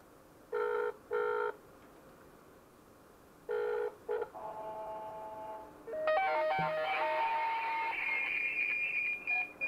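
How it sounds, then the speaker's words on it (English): DTMF dialing of a radio repeater's number through a GSM phone patch, heard as clear bursts of dial tones in short groups followed by a longer run of beeps and rising tones, faint and with no talk. "Dial natin po yung number ng repeater"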